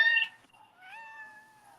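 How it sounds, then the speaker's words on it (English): A cat meows twice, close and clear: a short bright call followed by a longer, drawn-out meow after a brief pause, in an otherwise quiet indoor setting. "No, that's a cat."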